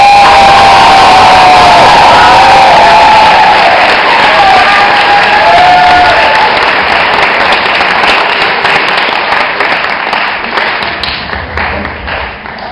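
An audience applauds to welcome a guest speaker, loud, dense clapping mixed with cheering and whoops that gradually thin out and fade toward the end.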